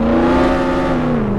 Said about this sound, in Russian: сейчас я еду к той тачке, которую хочу получить, на своей эклер Бугатти Широн